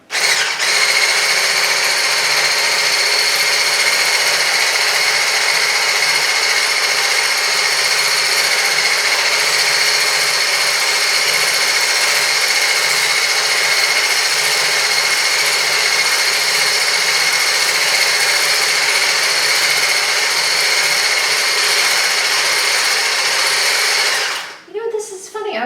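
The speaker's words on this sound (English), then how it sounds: "we're going to pull out our egg whites and we're going to whip them" An electric mixer whips egg whites for ricciarelli cookies with a steady, loud, high whine that holds unchanged for about twenty-five seconds before briefly dropping off at the end.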